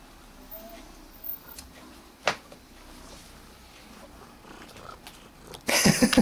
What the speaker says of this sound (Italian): Ma quante fusa fai,